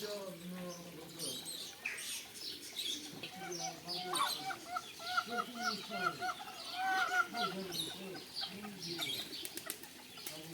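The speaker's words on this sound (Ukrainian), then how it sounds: "Та курка шукає, знаю, гнізда чи що, кричить" A hen clucks and squawks repeatedly in agitated bursts, with other birds chirping and a voice talking faintly underneath.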